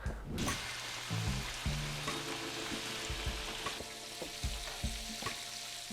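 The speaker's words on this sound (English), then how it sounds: "This is the last of the fried backstrap and tendered loins." Deer backstrap and tenderloin fry in a pan at a deer camp kitchen, a soft steady sizzle with intermittent clinks and scrapes of a utensil stirring, fairly close and quiet, without speech.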